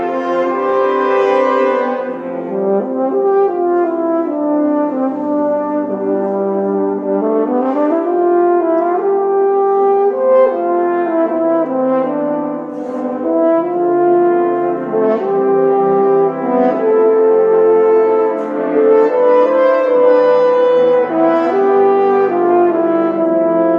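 Horn choir with a solo horn playing a slow, sustained piece, with layered overlapping brass lines that swell steadily and continuously for the whole passage, with no speech.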